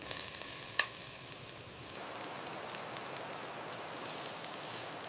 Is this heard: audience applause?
no